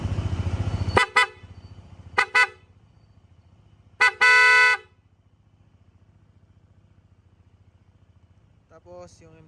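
Horn on a Honda ADV 160 scooter honks three times, two short toots and then a longer held blast, loud and close over a quiet idling engine, with brief talk near the end.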